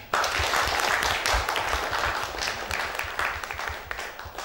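An audience at a Tasikmalaya Leaders Club collaborative program bursts into applause, loud, dense clapping starting abruptly and continuing steadily, easing slightly toward the end.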